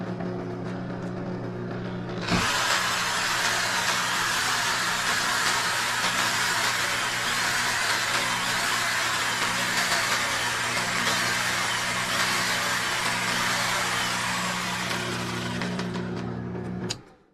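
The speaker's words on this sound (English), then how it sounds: "So I'm going to run that small motor and a reciprocating saw." A small motor hums steadily, then a reciprocating saw kicks in and runs loud and continuous for about fifteen seconds while powered by a 12V 100Ah LiFePO4 lithium battery, stopping abruptly at the end.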